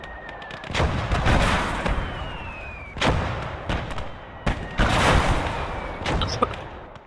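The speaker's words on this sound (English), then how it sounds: "These artillery are going to friggin' fire" Artillery and gunfire boom repeatedly on the Eastern Front in Gates of Hell: Ostfront, several heavy sharp blasts spaced a second or two apart, loud and close, with whistling shells trailing between impacts.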